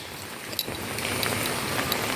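Steady heavy rain falls outdoors over a garden with a chili plant, a dense continuous hiss with scattered drop impacts that swells slightly over a couple of seconds, with no voices.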